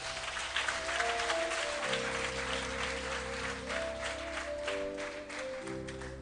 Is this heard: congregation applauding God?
yes